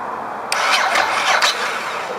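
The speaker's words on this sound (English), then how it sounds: "Now I'm going to hit the starter." A Ducati S2R 1000 motorcycle with low battery voltage has its starter pressed, and the engine cranks in a brief burst of rapid, uneven churning pulses lasting about a second over a steady background hiss.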